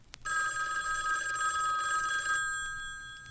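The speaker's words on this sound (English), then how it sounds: "It was the telephone." An old telephone bell rings in one continuous metallic trill lasting about two seconds, loud and close, then stops and leaves a fading ringing tail. No one speaks.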